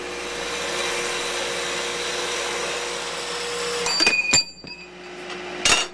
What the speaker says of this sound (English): Now we're just going to cut these balusters.